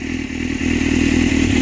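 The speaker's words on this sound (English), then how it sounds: "And I guess I can give it a little rev." A motorcycle-style engine revs up, loud and close, with a strong low rumble and rising, sustained roar over a mechanical clatter, building steadily in level without any talk.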